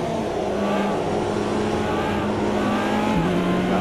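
A race car engine in the Automobilista 2 video game holds a steady high-revving drone for a few seconds, with a brief dip in pitch near the end, loud and alone.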